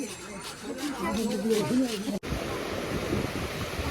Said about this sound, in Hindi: ये यमुना नदी है